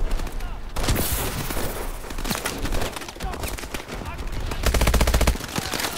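Dense automatic gunfire and explosive bursts from the video game Call of Duty Advanced Warfare, loud and continuous, with rapid machine-gun rattles near the end.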